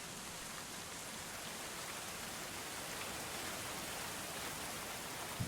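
Steady rain in the medieval colony-building video game Going Medieval, a continuous broadband hiss of falling drops at even loudness throughout, with no speech.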